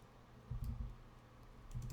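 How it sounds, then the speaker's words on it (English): Quick tapping on a computer keyboard as a search is typed, two short bursts of close, soft key clicks separated by a brief pause, fairly quiet and with no talking. "Let's type it in."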